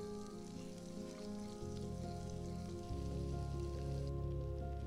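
Finely chopped onion dropped into hot ghee for coconut milk rice, a soft steady sizzle and crackle rising slightly in loudness, close and alone with no voices, a low hum beneath.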